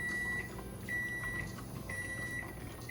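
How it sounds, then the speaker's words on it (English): A kitchen timer beeps three times in a steady repeating pattern while turkey bone broth is pressure canned on a stove, the tones clear over a constant low hum of background noise. "Our timer is about to go off any second."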